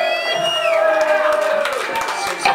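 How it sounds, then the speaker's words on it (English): A live punk gig crowd in a small venue cheers, whoops and claps loudly. Sustained shouted and whistled tones rise and slide over the noise, with scattered claps underneath. "Let's have a round of applause for Nick"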